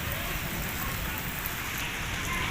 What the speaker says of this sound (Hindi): चलो अब मैं आपको बारिश दिखाता हूँ, कितनी ज़्यादा बारिश हो रही है।